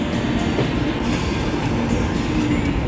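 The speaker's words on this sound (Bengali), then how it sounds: "নির্ধারিত সময় থেকে 1 ঘন্টা লেটে ঢুকছে আমাদের ট্রেন" Netaji Express passenger train rolling into Old Delhi Junction station, a loud continuous rumble of wheels on rails with faint clattering and occasional squeal, heard from inside the moving train.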